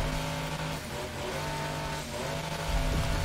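Heavy car engine in the Gravel off-road racing game, a loud steady drone with layered harmonics that dips and swells as the car pushes through, rising again near the end.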